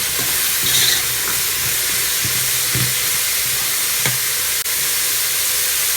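Shredded cabbage stir-fried in a hot pan, giving a steady bright sizzle and hiss with occasional soft scraping of the stirring utensil, close and continuous without any voices.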